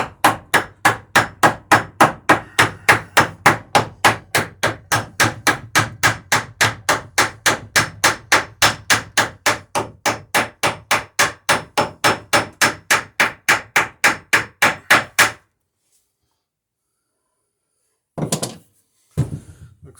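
Steady, rapid hammer blows strike a rivet head on a wooden boat stem, roughly fifty sharp evenly spaced hits, loud and close, then a pause followed by a couple of short knocks.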